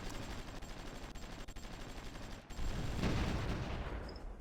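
Artillery barrages in the strategy game Supreme Ruler Ultimate, a dense continuous rumble of distant gunfire and explosions that swells louder in the second half.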